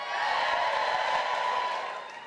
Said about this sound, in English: A few women cheering there and some metrosexual guys